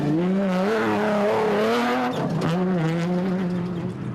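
Off-road rally race cars, a Ford Ranger and a Toyota Hilux, roaring past closely bunched, with loud continuous engine drone, shifting revs and a brief surge midway, near and steady throughout.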